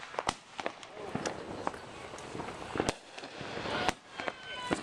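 Fourth of July fireworks go off nearby in a rapid, irregular series of cracks and bangs of varying loudness, with crackling between bursts, faint footsteps and people talking and exclaiming.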